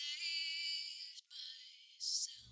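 A lead vocal soloed through a de-esser's bandpass sidechain filter, leaving only thin, bright hissy fragments of the voice; a short, buzzy, insect-like sibilant texture with a brief gap and a sharp burst near the end.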